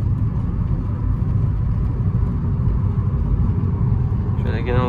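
Steady in-cabin engine drone and road rumble from a BMW 320i E36 on the move, continuous and loud, with a brief tonal chime near the end.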